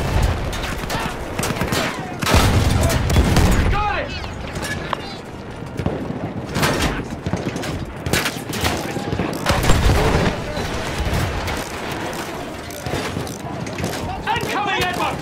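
Battlefield 1 combat audio set in World War I, dense with bursts of gunfire and booming explosions, with hoofbeat-like clatter mixed in, loud and continuous across the scene, while voices shout over the battle.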